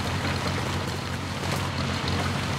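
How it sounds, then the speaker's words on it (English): A truck engine idles in the war-themed game War Hospital, a low steady rumble with a broad noisy hiss above it that holds constant for the whole stretch, with no talking. "There's an idling truck here somewhere all the time."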